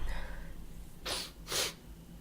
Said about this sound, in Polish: No i znowu pociągnęłam nosem.